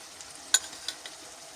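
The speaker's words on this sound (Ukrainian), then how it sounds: "Отак хай тушкується." A vegetable sauté with tomatoes stews in a pot, giving a faint, soft crackle. A few light pops stand out over the quiet stretch.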